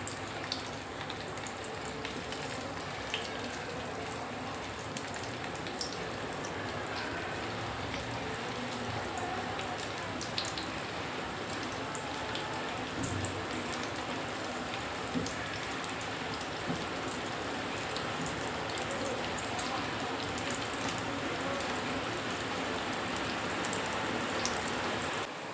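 Okra (bhindi) frying in a pan, a steady even sizzle and crackle continuing without break, moderately quiet, with no voices.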